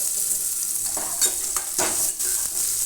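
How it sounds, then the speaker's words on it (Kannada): Green chillies, mustard seeds, cumin and onion frying in a pan for upma, a steady close sizzle broken by several sharp stirring scrapes, fairly loud with no speech. "ಹಸಿಮೆಣಸಿನ್ಕಾಯಿನ ಹಾಕ್ಕೊಂಡು ಫ್ರೈ ಮಾಡ್ಕೊಳ್ತಾ ಇದ್ದೀನಿ"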